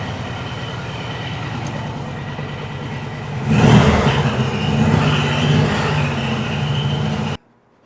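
A 1969 VW Beetle engine runs steadily close by, a low droning rumble that grows louder and rougher partway through before cutting off abruptly at the end.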